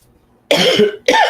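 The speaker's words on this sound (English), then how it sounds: "that's the weed cough" Two harsh, close coughs in quick succession after a short quiet moment.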